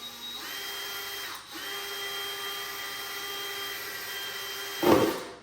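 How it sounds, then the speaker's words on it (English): A power drill whirs steadily with a high-pitched motor whine, pausing briefly before spinning up again, then bites in with a louder grinding burst at the end. "So what I can do is just drill."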